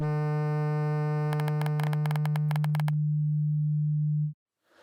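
A steady pure sine tone hums alone for several seconds, briefly overlaid by a burst of rapid clicking pulses, then cuts off abruptly into silence.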